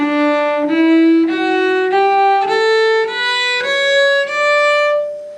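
Plucked string notes in thumb position climb in a steady sequence of four to five tones, a whole step then a half step, each sustained and ringing, played alone with no voices.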